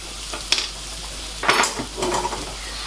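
Mushrooms tipped into a pan of sweated garlic sizzle and fry alone, with a few scraping stirs and clinks of utensil against the pan rising in bursts over a steady hiss.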